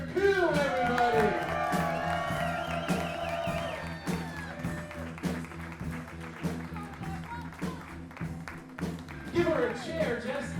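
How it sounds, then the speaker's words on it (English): A live comedy audience applauds comedian Esther Ku as she comes on, with steady clapping and some cheering from the crowd running under loud voices talking over it. "big round of applause for Esther Ku"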